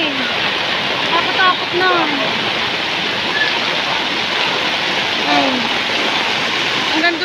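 Floodwater rushes steadily through a local neighborhood, a broad continuous wash of water noise under frequent nearby talking.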